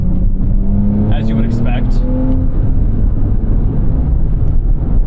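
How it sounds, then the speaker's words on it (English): A 2022 Porsche 911 Carrera S (992.1) engine accelerates, a loud in-cabin drone rising in pitch over the first couple of seconds amid heavy road and wind noise, while a person talks briefly. "this engine, compared to the 992, definitely a lot more power, but also substantially more lag"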